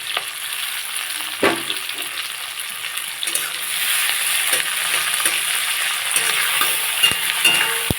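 Chopped tomatoes fry in a hot pan for a spicy koi fish curry, giving a steady broadband sizzle with a few stirring knocks and clinks, close and fairly loud with no speech.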